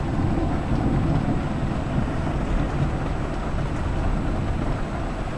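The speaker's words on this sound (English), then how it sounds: "Can you hear the thunder? You see the rain?" Heavy rain pours in a steady, dense roar with deep low thunder rumbling underneath, no voices.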